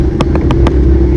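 An Ertiga car's engine drones steadily and loudly up close as it revs while stuck in water, broken by a few sharp clicks or knocks.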